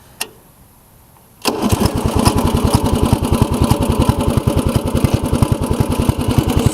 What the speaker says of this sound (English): I'll do start up, a little drive, and I'll turn the blades on.